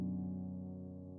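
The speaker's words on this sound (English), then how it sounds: "A gentle, soft piano." A soft, gentle piano chord rings out and slowly decays, mellow and quiet with no other sounds.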